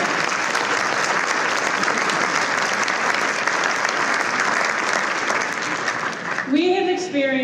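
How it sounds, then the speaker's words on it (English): Sustained, loud applause from an audience at a community leaders breakfast honoring Dr. Martin Luther King Jr., welcoming special guests; dense steady clapping fills the room, with a voice starting to speak near the end. "Please give a round of applause for our special guest."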